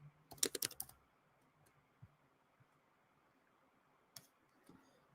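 Brief bursts of typing on a computer keyboard, a quick cluster of close clicks followed by a few isolated taps in a quiet room.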